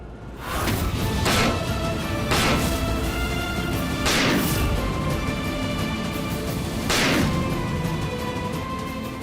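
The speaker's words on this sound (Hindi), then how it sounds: "अब हम ये शीशा तोड़कर जीत को बाहर निकालेंगे।" Repeated heavy blows against a sheet of glass that will not break, landing as sharp crashing impacts a couple of seconds apart over a constant dense background.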